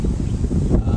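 Heavy low rumbling wind buffeting the microphone, loud and gusty for about a second.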